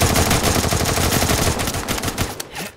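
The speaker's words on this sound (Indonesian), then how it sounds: "Tembakan ancaman sudah diberikan." Rapid gunfire rattles in a video game, loud bursts of shots in quick succession that thin out toward the end.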